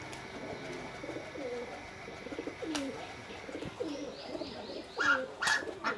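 Giribaz high-flyer pigeons cooing in a loft, a series of soft throaty coos repeating at close range, with a few sharper chirps and bird calls near the end and no speech.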